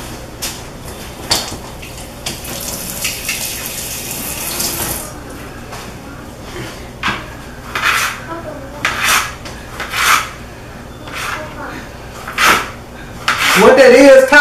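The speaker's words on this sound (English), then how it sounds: "So we're just gonna cut these sausages up real quick." A knife cuts beef and pork sausages on a kitchen board in a series of short, close scraping and chopping strokes, with a few louder knocks and a voice talking throughout.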